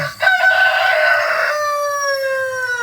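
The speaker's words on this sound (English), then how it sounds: "rooster has to come out here when I'm talking." A rooster crows once, loud and close, the call rising then holding a long drawn-out note that trails off.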